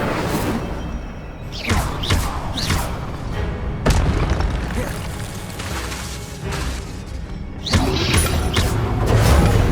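The Incendio fire spell in Hogwarts Legacy erupts in repeated deep booming whooshes, about four bursts spaced a couple of seconds apart over a busy bed of game combat sounds.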